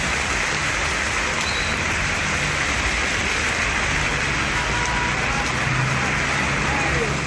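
Heavy rain pouring down in Chennai, Tamil Nadu, during a downpour lasting over an hour: a loud, steady, dense hiss that runs unbroken throughout, with a low rumble that may be road traffic.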